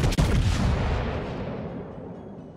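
Slava battleship main guns firing a salvo in World of Warships, one sharp, heavy boom followed by a long rolling rumble that slowly fades away.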